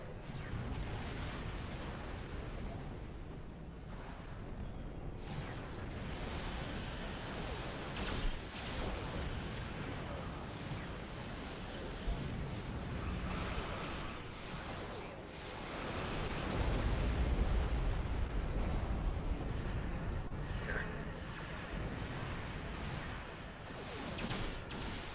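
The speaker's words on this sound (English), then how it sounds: "Borg torpedo coming in, trying to get to it." Borg torpedo explosions in a Star Trek space combat video game, heard as a dense, continuous roar of blasts and rumble that swells louder midway through, with no talk.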